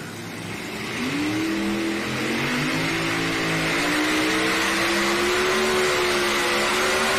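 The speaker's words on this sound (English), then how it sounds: "He'll roll about 5 feet and he will bury that throttle." A pulling tractor's engine held at full throttle during a truck and tractor pull at the NC State Fair in Raleigh, a loud sustained roar whose pitch climbs steadily as it strains down the track.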